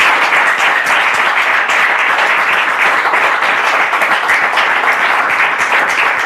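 Sustained studio audience applause greeting the launch of the Westwamo Cancer Foundation, dense steady clapping held at an even level throughout.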